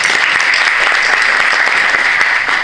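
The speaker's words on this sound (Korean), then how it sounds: "여러분께도 박수를 보내드립니다" A church congregation claps steadily for newly ordained officers at an installation service, a continuous wash of many hands at even loudness with no voices over it.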